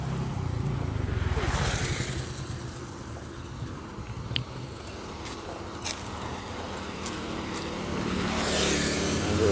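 Road traffic on a street in Bacong, Philippines, a steady rumble of passing cars and motorbikes swelling and fading as vehicles go by, with a few sharp clicks and knocks nearby.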